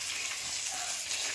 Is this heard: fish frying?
yes